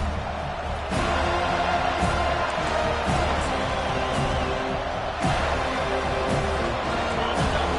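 A college football stadium crowd cheering during a Utah versus Florida State game, a dense, sustained roar of many voices that swells and holds steadily at a distance.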